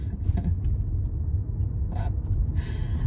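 Steady low road rumble fills the inside of a moving car, with a few faint higher rattles and hisses passing over it and no talking.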